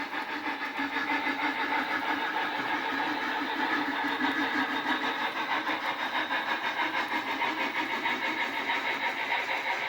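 A model railroad train rolls steadily along a layout past a depot near Grove City, giving a continuous, even mechanical hum and rattle that stays close and constant throughout, with no talk.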